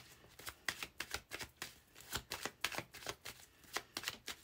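Playing cards being shuffled for a three-card tarot-style reading, a quiet run of crisp riffling bursts repeating in quick irregular rhythm, close and alone.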